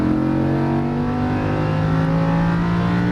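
A Lamborghini Huracan at speed on a race track, its engine a loud, steady, close drone with rising tonal whine under acceleration, running continuously without voices.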